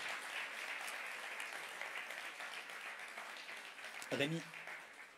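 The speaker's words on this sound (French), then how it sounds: "On peut les applaudir." A church congregation in Farmoutier applauds steadily for several seconds with a dense wash of clapping, and a voice briefly speaks near the end.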